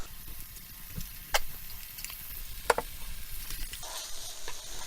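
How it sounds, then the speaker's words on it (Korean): Kimchi, sugar and canned tuna are stir-fried in a pan with sesame oil, giving a soft steady sizzle with a few sharp clinks of a utensil against the pan. "그냥 한번 이렇게 섞이도록만 볶아주면 끝나요"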